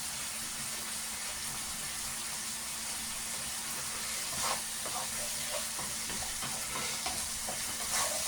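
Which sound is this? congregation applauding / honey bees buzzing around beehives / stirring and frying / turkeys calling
stirring and frying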